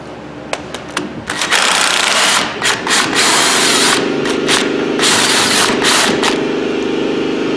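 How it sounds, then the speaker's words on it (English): A cordless impact wrench on the front suspension of a Ford Fusion, short rattling bursts, then an air compressor kicks on with a loud steady drone that continues to the end, close by. "Using a cordless impact and the compressor kicks on."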